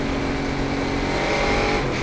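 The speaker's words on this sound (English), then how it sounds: "The sound of NASCAR roaring into action here historically, as the Monte Carlo leads them up the hill" Several NASCAR stock cars, a Monte Carlo among them, roar up the hill at an SVRA historic race, a dense, steady engine drone held loud and close for the whole two seconds.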